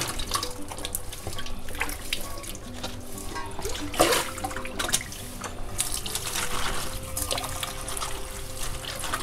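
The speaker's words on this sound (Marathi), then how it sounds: "तर आता मी भाजी धुवून घेते आणि निथळत ठेवणार आहे" Spring onion greens rinsed under a running kitchen tap, with a continuous splashing stream of water and intermittent sloshing as the leaves are handled, close and steady throughout.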